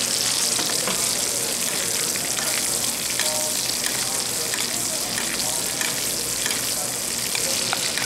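Louvar fish frying skin-side down in a pan, a loud, continuous close sizzle with crackling spits throughout, with no voice over it.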